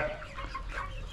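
Chickens, including roosters, cluck in a busy flock, overlapping calls sounding fairly close, with a low background rumble.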